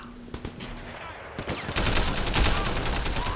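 Gunfire in the video game Sleeping Dogs: several sharp shots crack early on, then a dense burst of rapid fire continues to the end, loud and close.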